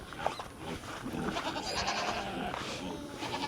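Goats on a farm bleat repeatedly at close range, their calls overlapping in a busy pen with low background noise and occasional movement.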